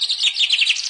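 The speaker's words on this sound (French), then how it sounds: "C'est un pinson." A chaffinch sings in a garden hedge beside an apple tree, a quick run of high, bright chirping notes, close and clear, with no talking.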